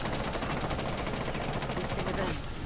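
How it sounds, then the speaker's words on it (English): Rapid gunfire from a video game, dense continuous bursts filling the whole stretch at steady loudness, with players talking over it. "Can you stop shooting, please?"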